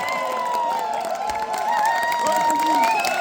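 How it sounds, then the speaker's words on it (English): A trade-fair audience at Hannover Messe cheers, whistles and claps for Team Brazil, a dense, loud crowd roar with shouted voices rising and falling throughout. "we'll vote by applause or by whatever noise you want to make"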